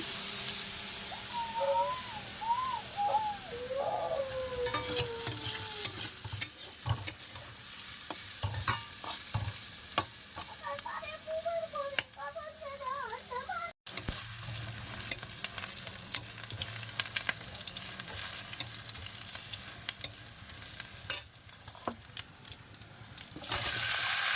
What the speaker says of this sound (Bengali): আলু ভাজা হচ্ছে।